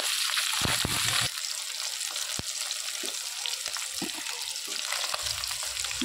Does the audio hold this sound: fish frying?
yes